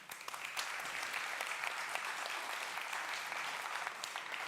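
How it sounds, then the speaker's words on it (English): A crowd applauds with steady, dense clapping that holds at a constant level for several seconds, heard from a moderate distance, at a tech conference talk. "So please do give Gerald a massive round of applause."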